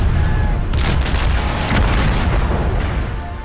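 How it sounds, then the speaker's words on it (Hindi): Heavy artillery shelling in a mountain border clash between Indian and Chinese forces, heard as a dense, continuous roar of booming explosions with a few sharper bursts, loud and close throughout. "भारत ने शेबुला और कैमल्स बैक पोस्ट से चीन पर तोप की मदद से गोले"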